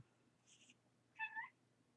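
A cat gives two short, nasal, honking meows close by in a quiet room, the second louder than the first.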